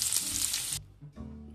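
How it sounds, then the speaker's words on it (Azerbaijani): Chopped garlic frying in butter in a pan, a loud close sizzle that cuts off sharply partway through, then returns more quietly after a short pause. "Sarımsaqları əlavə edib bir qədər qovururuq."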